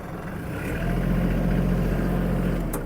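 The engine of a Kubota KL-23 mini tractor hums steadily at low pitch, swelling a little louder as the machine pulls away in gear, with no talking over it.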